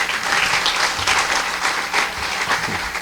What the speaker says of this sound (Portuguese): Uma salva de palmas, Dr. Roberto.